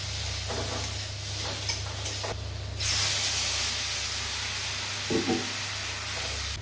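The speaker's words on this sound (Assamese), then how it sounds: "এটা পানি দি দিম" Water hits a hot pan in a home kitchen and bursts into a loud, steady hissing sizzle that swells partway through and keeps going with no voices.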